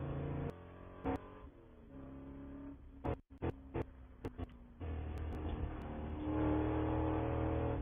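Onboard Spec Corvette race car engine droning and revving at Sonoma Raceway, with sharp gear-shift pops and a brief dip before it roars back up, loud and close.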